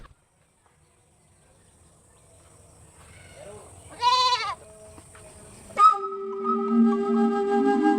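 A goat gives one short, close, nasal bleat in a quiet rural setting, followed a moment later by steady sustained tones that carry on to the end.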